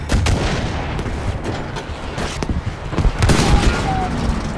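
Gunfire in a Battlefield 5 battle scene rings out as loud sharp shots over a dense din of distant artillery and booms, with some voices faintly underneath.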